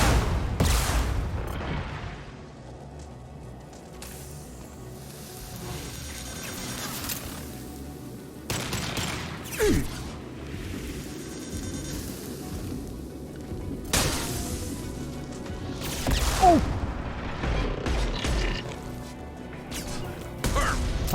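Gunfire and heavy impacts in the video game Mass Effect 2: Legendary Edition during a firefight, several sharp blasts and crashes spaced apart between quieter stretches of game ambience, with occasional talk heard.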